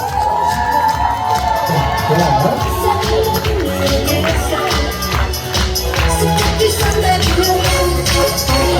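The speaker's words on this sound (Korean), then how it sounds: "자, 우리 친구들 기쁘다. 소리 질러!" A crowd of children shouting and cheering with excitement, a loud and continuous mass of high voices and squeals kept up throughout.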